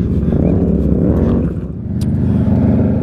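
A 60-horsepower Raptor four-wheeler drives past on an off-road trail at the Lake Havasu Standard Wash OHV park, its engine a loud, steady rumbling drone that dips briefly midway and then swells back up.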